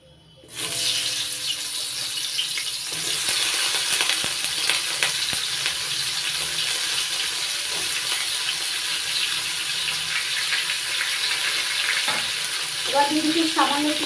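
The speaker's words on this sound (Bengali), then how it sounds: "আলু ভেজে তেল আছে, ওই তেলের মধ্যে এবার চিচিঙ্গাগুলো ভেজে নিচ্ছি হালকা করে।" Snake gourd slices fry gently in oil left over from frying potatoes, giving a steady, close hiss and crackle with no break, and a few brief clinks and scrapes of a utensil near the end.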